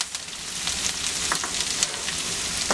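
Onions fry with garlic and curry leaves in hot oil, making a continuous, close sizzle with small crackling pops throughout.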